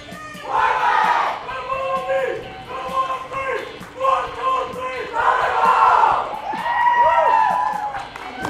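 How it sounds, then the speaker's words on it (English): Two bowling teams cheer together at a league match, loud rhythmic group shouts and chants rising in repeated bursts from a crowd. "Two teams putting on the big cheer."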